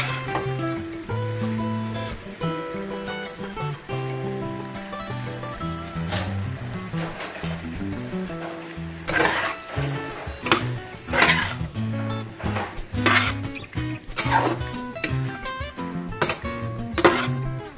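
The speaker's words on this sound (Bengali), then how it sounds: "আমি এখন এই পর্যায়ে পাস্তা অ্যাড করে দিচ্ছি" Pasta tossed in a pan of spicy garlic sauce: a continuous sizzle under clattering, scraping stirs of a utensil against the metal pan, with the knocks growing sharper and more frequent, close and fairly loud.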